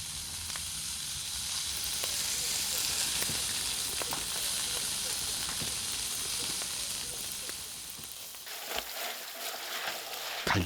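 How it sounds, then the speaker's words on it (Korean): Freshwater eel grilling at Suncheon Bay in autumn, a loud continuous sizzle and crackle of fat with scattered pops, fading slightly near the end as a few clinks and bumps come through. "지글지글 고소하게 장어 굽는 소리에 순천만 가을이 맛있어집니다."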